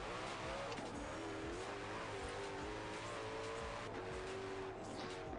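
A Koenigsegg One:1 hypercar in Forza Horizon 4 drives at speed, its engine a steady, sustained drone with shifting pitch and a few brief rises. The engine stays faint and continuous throughout, with no pauses.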